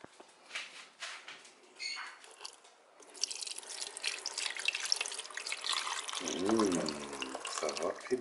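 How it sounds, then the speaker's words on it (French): The rest of a Pepito sangria being poured out, heard as faint liquid splashing and trickling under a voice that talks intermittently throughout. "Et on va vider le restant de Pepito Sangria."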